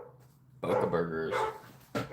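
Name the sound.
dog barking at a dog rescue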